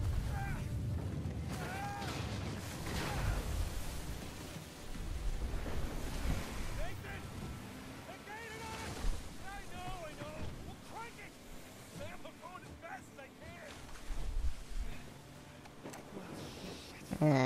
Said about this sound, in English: So it looks like we're in some kind of boat. Going towards Skull Island, I guess.